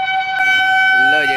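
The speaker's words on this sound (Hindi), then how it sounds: "हॉर्न भी मार दी।" A train horn sounds a sustained, loud, steady tone for over a second, with a voice talking underneath toward the end.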